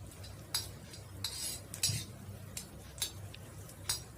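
A spoon clinks and scrapes against a pan at a steady pace while asafoetida and de-seeded red chilies are mixed in hot oil, about eight sharp metallic taps over a faint background hiss, quiet and close with no talking.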